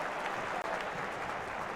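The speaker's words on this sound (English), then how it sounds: "Bramall Lane stands up and applauds in memory and in honour" The football crowd at Bramall Lane stands to give a minute's applause in memory of George Baldock during a charity match, a steady, sustained wash of clapping from a large stadium crowd.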